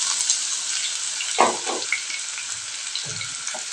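Finely chopped onions fry in hot oil for a mushroom masala curry, giving a continuous close sizzle with a couple of soft stirring knocks.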